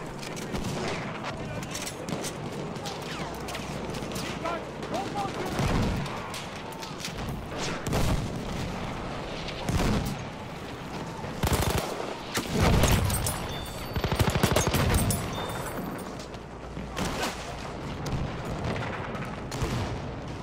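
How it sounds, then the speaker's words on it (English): Battlefield 1 gunfire, dense and continuous, with repeated rifle shots, bursts and booming blasts throughout, a voice occasionally talking underneath. "he's still shooting at me"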